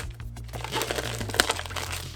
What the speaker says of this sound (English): Let's get the plastic cut.